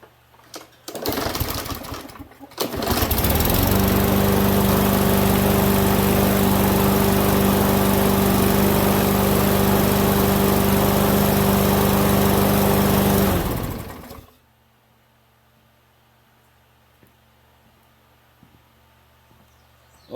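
A Poulan 22-inch lawn mower engine with an auto choke sputters briefly, then catches and runs loud and steady for about ten seconds with a droning hum before cutting off abruptly into quiet.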